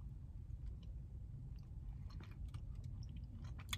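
Someone chews a chewy green apple candy up close. The moist, squishy bites and smacks are faint and irregular over a low background hum.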